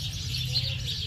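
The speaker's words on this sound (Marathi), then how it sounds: "चिमण्यांचा किलबिलाट ऐकू शकता इकडं मस्त" Sparrows chirp in a quick, busy chatter at moderate distance at an old-age home, over a low background hum.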